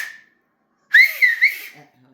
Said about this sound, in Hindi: कई ऐसे दो उंगलियां इसमें रखते हैं मुंह में और सीटी बजाते हैं